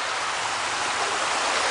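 Cold spring water at Stowe, Vermont, running in a steady, loud, broadband rush, close by and continuous with no talking.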